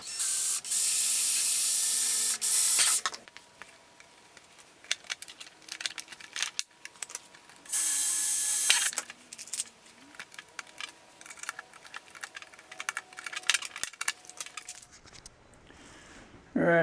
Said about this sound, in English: I'm going to put a couple rivets in here to begin with, just to lock it in.